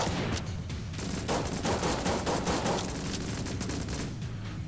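Rapid bursts of gunfire from the video game Enter the Gungeon, a dense, fairly quiet crackle of repeated shots running steadily throughout without pause.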